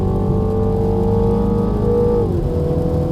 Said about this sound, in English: You can hear that little engine revolution.